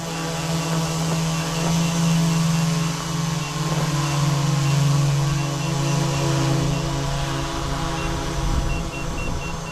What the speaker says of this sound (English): There's that EVO 2 up in the air.